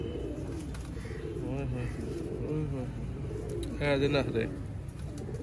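Pigeons coo softly in a loft where fancy pigeons are kept, their low rolling calls repeating under someone talking nearby.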